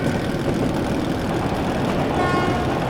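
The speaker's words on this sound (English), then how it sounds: "That's the train." An approaching train in Metro Last Light Redux rumbles loudly and steadily underground, with a faint sustained horn tone rising late over the engine drone.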